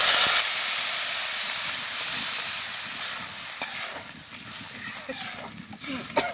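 Water poured into a pot of hot spiced lentils for dal, cooked outdoors in a rural kitchen, sets off a loud steady hiss and sizzle that fades slightly. Faint stirring clatter follows.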